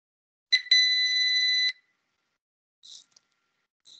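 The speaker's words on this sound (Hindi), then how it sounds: "फिर मतलब एक दफा बंद होने वाला बीप है" An electronic buzzer in a lab exercise gives a short chirp, then a steady high beep lasting about a second, followed after a pause by two faint brief blips.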